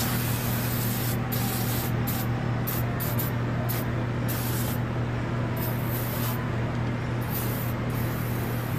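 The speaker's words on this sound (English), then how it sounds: "Spray up all these rusted springs and all this crap." Aerosol lubricant hissing steadily and continuously onto the rusted springs of a 1963 Buick Riviera, a close, loud, unbroken spray with a low steady hum underneath.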